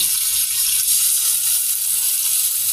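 Puti fish sizzling in hot oil in a pan, a steady bright frying hiss with faint low crackle, close and continuous with no talk.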